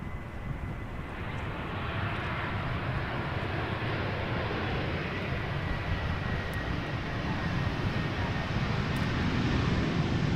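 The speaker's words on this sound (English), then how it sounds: "First up, TUI flight 1534, 737 MAX 8 arriving from Ibiza." A TUI Boeing 737 MAX 8 landing at Amsterdam Schiphol gives a steady, broad engine roar that holds near and loud throughout, with a faint high whine running under the rumble.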